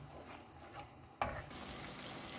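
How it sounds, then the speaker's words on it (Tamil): Tomato and potato pieces sauté in hot oil for a mutton peratel with coconut, giving a soft, steady sizzle with a brief stirring scrape midway, faint and close in a home kitchen. "இது வரைக்கும் நல்லா இதை வதக்கிக்குங்க."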